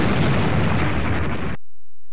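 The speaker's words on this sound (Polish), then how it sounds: "Eksplozje." Explosions in Zdzisław Bohater Galaktyki 3D, a free Polish Amiga-style game: a dense, loud, continuous roar of overlapping blasts for about a second and a half, then cut off abruptly into silence.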